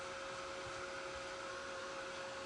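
A hair dryer runs steadily and evenly at close range, blowing on sheer napkin tissue during a craft project, with no talking.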